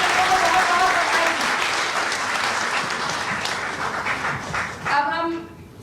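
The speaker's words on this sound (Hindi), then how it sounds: "एक बार सबके लिए जोरदार तालियां" Enthusiastic audience applause at a school education and health program event in Raipur rolls on steadily for several seconds, then a speaker's voice breaks in near the end as the clapping fades.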